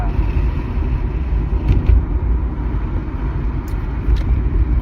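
Car driving along a road, a steady close engine and tire rumble filling the whole stretch at an even level, with no clear speech over it.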